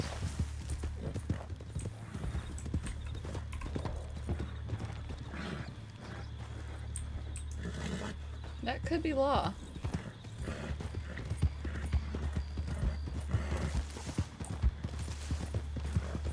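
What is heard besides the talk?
horse galloping hooves in RedM video game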